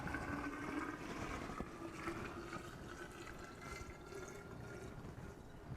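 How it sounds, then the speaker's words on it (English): Brine poured from above into a jar of cucumbers for refrigerator half-sour pickles, a steady close liquid splash and gurgle running continuously with no talking. "I'm gonna pour this over my cucumbers."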